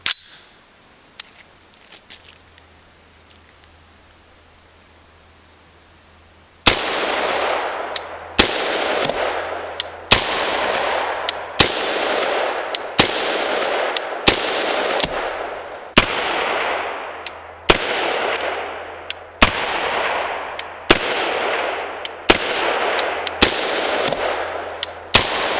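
AR platform rifle fitted with a SIG-TAC arm brace fires about a dozen loud single shots at an irregular, roughly one- to two-second pace, each sharp crack trailing off in echo after a quiet start.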